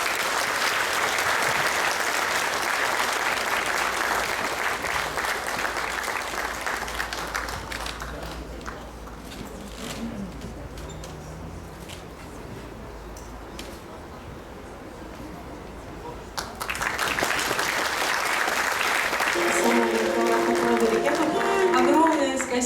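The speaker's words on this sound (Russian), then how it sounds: "Поэтому еще раз громкие аплодисменты." Loud applause from an audience at a community event honoring a mother and grandmother, steady dense clapping that thins in the middle and swells again toward the end, with voices and crowd noise mixed in.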